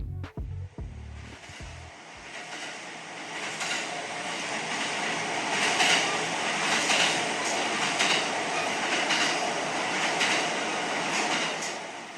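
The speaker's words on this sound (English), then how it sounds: "Along a railroad track sped a train." A train speeds along a railroad track, a steady broad rushing roar with faint clattering wheel noise that holds at a moderate level throughout, after a few brief low thumps at the start.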